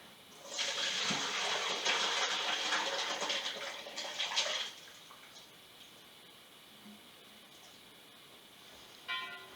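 Chicken broth pours and drains through a colander, a steady rushing splash of liquid for about four seconds that then stops, leaving a quiet room with a faint clink near the end.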